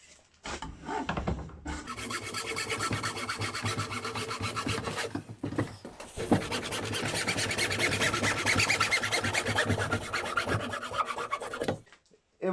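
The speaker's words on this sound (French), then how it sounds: "couper à ras du raccord là qui est là. Donc ça veut dire là, tout le long, avec la scie à métaux" A hacksaw cuts flush through a PVC pipe fitting in steady back-and-forth rasping strokes, loud and close, with a short pause partway through before the sawing resumes and then stops.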